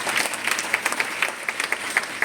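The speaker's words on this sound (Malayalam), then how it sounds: "വരുന്ന ആൾക്ക് നല്ലൊരു കൈയടി രാജൻ സാറിന് വേണ്ടിയാകാം." An audience at an RCM business programme in Kerala claps for an arriving guest, producing loud, close applause with crisp individual hand claps standing out in a lively, uneven rhythm.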